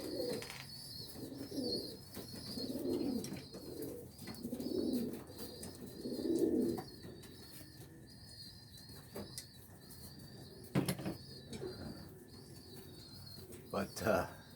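Pigeons in a loft coo softly in repeated low, rolling phrases, with faint chirps and occasional wing flutters, while someone talks quietly over them.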